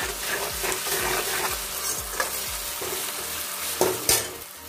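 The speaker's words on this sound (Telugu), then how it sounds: "ఇప్పుడు దీనిలోని 1 స్పూన్ జింజర్ గార్లిక్ పేస్ట్ వేసి ఫ్రై చేసుకుందాం." Ginger garlic paste fries with golden brown onions in a pan, a loud close sizzle broken by rhythmic scraping stirs and a couple of sharper utensil knocks near the end.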